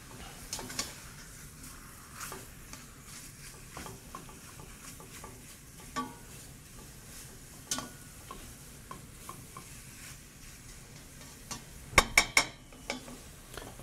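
Fish bones sweat gently in a pot as the first stage of a delicate fish fumet, giving a soft, steady sizzle with scattered light ticks and a few sharp utensil clinks toward the end, with no talking.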